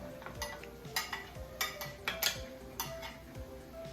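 A utensil stirs vegan adobo with carrots and potatoes in a pan, giving soft scraping and clinking strokes in an irregular rhythm over a faint sizzle, close and fairly quiet.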